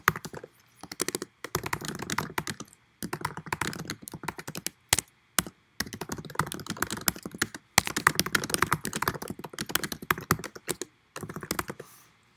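Fingers type on a computer keyboard in quick bursts of close, crisp key clicks, separated by short pauses, with no voices.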